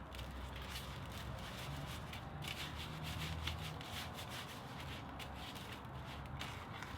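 Close, steady soft rubbing and patting as barbecue rub and black pepper are worked into a raw beef shoulder tender (teres major), with a low background hum and no talking.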